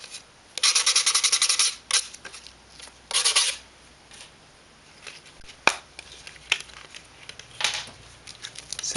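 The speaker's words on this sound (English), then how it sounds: "Find the backboard and sand off any tabs." Sandpaper rasping against a small wooden backboard piece to remove leftover tabs, a series of close scratchy strokes in short bursts with pauses and light taps of the workpiece between them.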